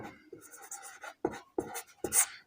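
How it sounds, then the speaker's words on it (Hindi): Pen or pencil writing on paper, several short scratchy strokes in bursts with brief pauses between, close and fairly quiet. "यहाँ पे लिख देते हैं इस तरह से"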